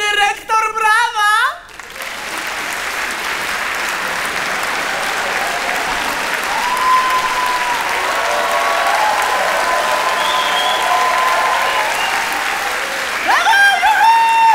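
A live comedy show audience breaks into long, sustained applause after a short burst of voices, the clapping dense and steady, with a few shouts and cheers rising near the end.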